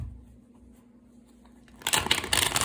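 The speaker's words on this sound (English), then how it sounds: "Couple more shuffles." Tarot cards being shuffled during a reading, a quiet start followed by a burst of crisp riffling and flapping card noise in the final second, close and fairly loud.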